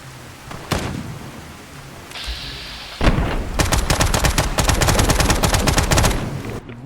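Rapid gunfire crackles out of bushes in a post-apocalyptic survival video game: a few single shots early, then from about the three-second mark a dense, loud machine-gun burst of closely spaced cracks that runs nearly to the end.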